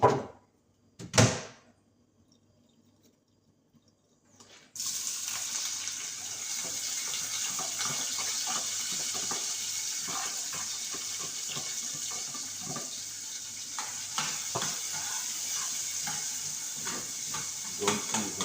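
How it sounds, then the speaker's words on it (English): Mackerel frying in a little oil in a pot, a few sharp knocks at first, then a sudden steady sizzling hiss with crackling pops that continues to the end. "pour some oil, fry up the mackerel now guys"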